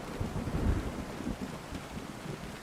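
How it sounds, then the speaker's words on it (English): A thunderstorm in the driving game Euro Truck Simulator, with heavy rain and low rumbling thunder rolling steadily throughout, with no other sound standing out. "How is it every game I play on stream, we end up with thunder and lightning?"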